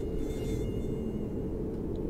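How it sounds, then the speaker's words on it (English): Mosquitoes in the video game DayZ make a thin, steady whine over a constant low rumble, close and continuous, with no voices. "Ah, goddamn mosquitoes."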